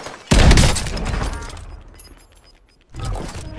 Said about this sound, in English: I sniped a guy in the head.